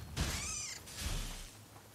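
A sad, lonely cat meows in the video game Nioh 2: two drawn-out, wavering cries in quick succession, fairly close and clear, with no talking over them.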